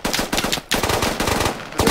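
Rapid automatic gunfire from the video game Squad, with sustained bursts of close, loud shots and a brief pause partway through.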